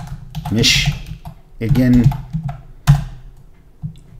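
Quick clattering keystrokes on a computer keyboard, tapping in short bursts close by while someone talks over them.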